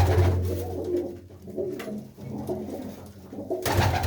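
Several show pigeons at a Punjabi fair coo in a dense, overlapping low murmur, steady and close, with a brief louder rustle near the end and no talk.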